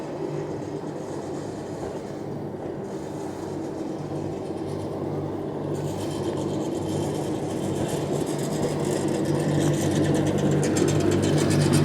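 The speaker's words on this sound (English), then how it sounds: "they have some steam trains running. I think it's the Puffin Billy." Puffin Billy steam locomotive running on track in the 1820s area of Beamish Museum during an autumn transport gala, a steady rumbling train passage with rail noise building gradually louder over the whole stretch, no talking.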